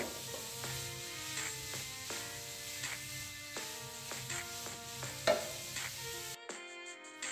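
Pumpkin being stirred and sautéed in ghee on low heat for a winter halwa, with a soft steady sizzle and repeated spatula scrapes and clinks against the pan, close-up, ending in near silence.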